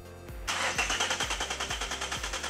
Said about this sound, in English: I'll just get this engine started so I can show you the rough idle and the shake in the engine